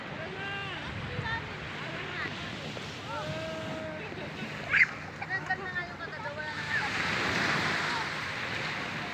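Sea waves wash steadily onto a beach on a seaside morning, a broad continuous surf wash under wind noise, with people talking and calling nearby throughout and a brief louder splash near the middle.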